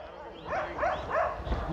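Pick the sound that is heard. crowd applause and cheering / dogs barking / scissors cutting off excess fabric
dogs barking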